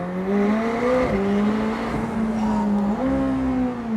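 A McLaren 765LT Spider's engine revs hard and climbs in pitch, shifting gears a few times as it accelerates, loud and close.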